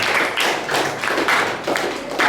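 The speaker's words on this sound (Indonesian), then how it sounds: "Tepuk tangan kelompok" Classroom group clapping together, a steady run of quick, close claps that continues for the whole stretch, loud and fairly even with short breaks in rhythm.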